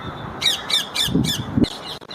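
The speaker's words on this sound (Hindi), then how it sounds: "तोते अपनी चाचाहट से रोशनी कर रहे हैं।" Parrots squawk in a rapid series of harsh, loud calls, about five in quick succession over steady outdoor background noise at a marble monument.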